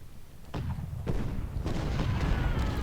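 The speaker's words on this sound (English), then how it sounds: "These artillery pieces are attacking enemy cavalry" Civil War cannons at the Battle of Brandy Station in Ultimate General: Civil War fire on enemy cavalry, giving three or four deep, distant booms about half a second apart over a rumbling battlefield background.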